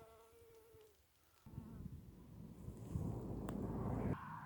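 Steady bee buzzing among flowers, fairly close, growing louder partway through, with wind rumble across the microphone.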